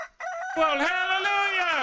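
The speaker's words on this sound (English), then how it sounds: "There's some roosters outside." A rooster outdoors lets out one long, loud crow that rises and holds, with a person speaking briefly just before it.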